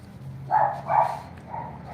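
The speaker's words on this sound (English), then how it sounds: "where the dogs will be barking in a live video" Dogs barking in a home workshop setting, a pair of bright, fairly close barks about half a second apart followed by a fainter yelp over a low background hum.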